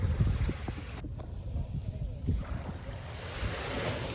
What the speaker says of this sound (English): The ocean bubbles and boils as the little fish leap.